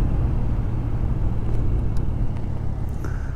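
A car drives along a road on the way to work, its steady low engine and tyre rumble filling the cabin evenly throughout, with a few faint light clicks and no speech.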